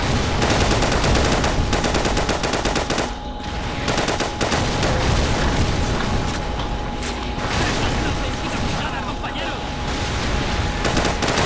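Heavy in-game gunfire during a fire mission in Call of Duty 4: Modern Warfare, dense sustained automatic bursts and explosions filling the whole stretch with barely a break, loud and close, with faint radio-style voices mixed in.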